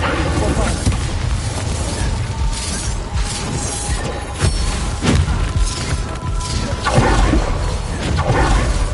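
A Bombarda explosion spell in Hogwarts Legacy, booming and crashing amid a busy duel with shattering debris and clattering effects, under spoken spell incantations.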